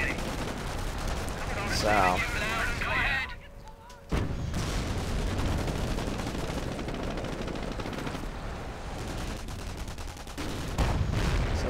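Gunfire and mortar fire from the strategy game Company of Heroes, with repeated shots and blasts running throughout under a voice.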